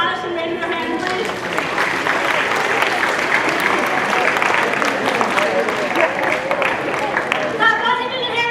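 Audience at a high school assembly applauds, a dense, steady wash of clapping from a large crowd lasting the whole stretch, close and loud with no talk over it.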